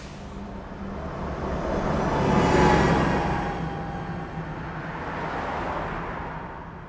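A single car passing by, captured as an Ambisonics recording: a broad road whoosh that swells to a peak midway and then fades, with a softer tail of traffic noise and no talk.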